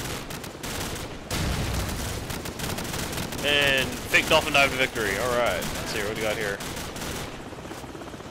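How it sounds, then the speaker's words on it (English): Call of Duty 4: Modern Warfare gunfire crackles through a chaotic stretch of game audio, with bursts of shots mixed among explosions and effects while a player talks over it. "Still gunfire"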